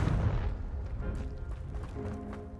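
Confringo explosion spell cast in Hogwarts Legacy, a deep booming blast at the start fading into a rumbling tail with lighter crackles and thumps after.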